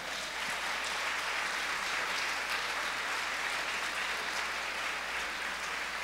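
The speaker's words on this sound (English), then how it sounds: "I want to give them all a wonderful round of applause." Sustained applause from a church audience honoring pastors and their spouses at an anniversary concert, a steady dense wash of clapping filling the room for the whole stretch.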